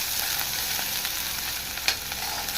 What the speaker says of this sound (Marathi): कांदा व्यवस्थित हलवून घ्यायचं आहे